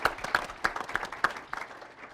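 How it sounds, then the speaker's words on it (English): Sparse applause from an audience honoring Tom, a community event organizer, at a Green Bay Gives Back gathering: a handful of separate claps rising and falling over a couple of seconds, fairly quiet with no talk. "Let's give him a round of applause."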